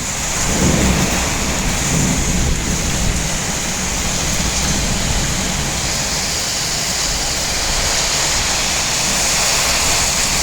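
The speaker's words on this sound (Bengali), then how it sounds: "ঝড় বৃষ্টি হাওয়া বয়ে যাচ্ছে প্রচণ্ড পরিমাণে ঝড় বৃষ্টি" Heavy rain and hail pour steadily with gusting wind and low rumbles of thunder in Dinajpur, North Bengal, a dense continuous roar throughout.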